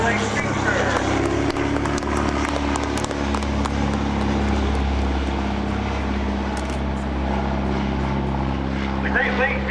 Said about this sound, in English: one of the premier aerobatic machines, the Golden Navy Great Lakes Speedster